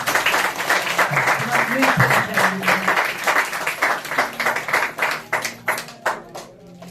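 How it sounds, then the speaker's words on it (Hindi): A church congregation claps together for Jesus, first a dense burst of applause under a voice, then settling into loud rhythmic unison clapping that gradually thins and fades. "एक अच्छी ताली बजाओ यीशु के लिए।"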